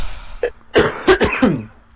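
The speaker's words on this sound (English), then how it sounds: "That was just a random cough." A smoker's cough from a man, a short throat-clearing hack followed by a burst of three or four close, loud rasping coughs that fade out.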